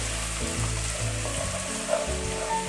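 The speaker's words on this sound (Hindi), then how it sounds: "ज़ीरे के फ़ौरन बाद ही मैंने इसमें चॉप की हुई एक मीडियम साइज़ की प्याज ऐड कर दी है।" Chopped medium onion and white cumin seeds fry in hot oil, a steady close sizzle with faint crackles and no voices.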